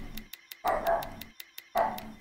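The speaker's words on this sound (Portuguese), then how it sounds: "o James tá latindo aqui, eu não sei porquê." A dog barks in short bursts, several quick sharp yaps with brief gaps between, fairly close, with clicking noises in the background.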